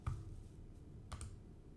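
A computer mouse clicks in a browser, giving a few faint, sharp clicks spaced apart over a low room hum, with no speech.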